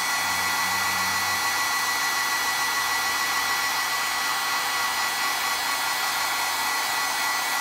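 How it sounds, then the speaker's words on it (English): Heat tool blowing steadily to warm craft foam, a constant close, loud whooshing hiss with a faint low hum at the start and no pauses. "So I'm going to turn off the heat tool."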